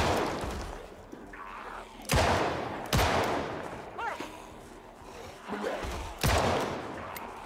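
Gunfire in the zombie survival video game Project Zomboid, with a handful of sharp single shots spaced a second or so apart, each ringing out over quiet background noise. No one talks.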